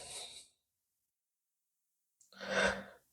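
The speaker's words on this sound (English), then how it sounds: "Breathing in." Breath during a yoga class, a short exhale at the start, a pause of silence, then a clear audible inhale or sigh near the end, close and soft.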